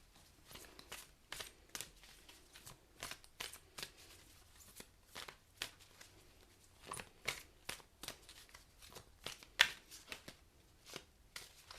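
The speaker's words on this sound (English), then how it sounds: "And to finish off, we're just going to pull a chakra card." Cards from a chakra oracle deck shuffle and flick in a quick, uneven run of sharp crisp snaps and riffles, close and fairly quiet, with no voice over them.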